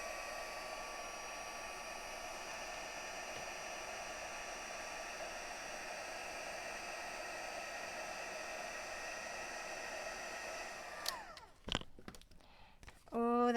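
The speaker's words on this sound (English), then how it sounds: "using the heat tool that I have right here, I'm going to heat up that embossing powder." Craft heat tool melting embossing powder on a handmade card envelope, a steady whirring fan-and-heater blow held for about eleven seconds before it clicks off, followed by brief handling noises.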